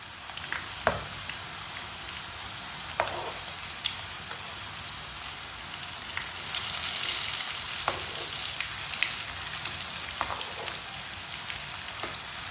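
Potato and egg pakoras frying in hot oil, a soft steady sizzle with scattered sharp pops and crackles, close by and with no talking.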